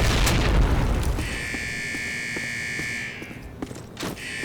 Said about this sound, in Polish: Okej, okay, mamy tutaj wybuch.